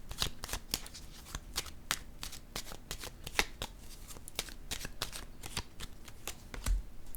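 Tarot cards are handled and shuffled nearby, producing rapid, crisp flicks and slaps in an even stream before a card is laid down, quiet and with no voices.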